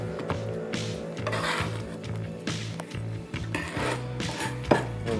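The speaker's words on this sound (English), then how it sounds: "So you hear that crunch of the kosher salt." A chef's knife presses and scrapes garlic with kosher salt on a cutting board, giving repeated gritty crunching and rasping strokes with sharp knife taps, close up, over a faint low background hum.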